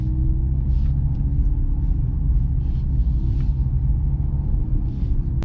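A 2023 Mercedes C43 AMG with a four-cylinder engine cruises at night, its engine heard from inside the cabin as a steady low rumble and drone with faint intermittent higher noises.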